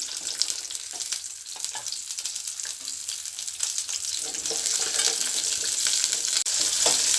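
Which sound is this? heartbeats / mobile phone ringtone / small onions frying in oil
small onions frying in oil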